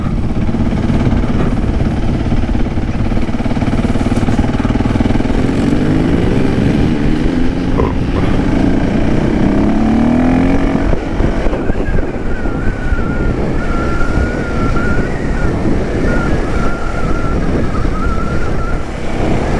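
A Husqvarna 701 Enduro motorcycle rides Yorkshire green lanes, its engine droning continuously under heavy wind buffeting on the microphone, with pitch rising and falling as the bike works along the track.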